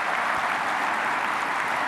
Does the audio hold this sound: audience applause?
yes